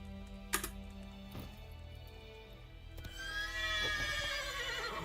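Geralt's horse Roach in The Witcher 3 whinnies and neighs close by, with a couple of sharp hoof knocks early on and a long rising whinny toward the end, with no talk over it.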